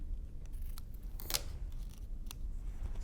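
Scissors snip through paper while cutting out haunted house decorations, a few crisp, close cuts spaced irregularly over a low steady background hum.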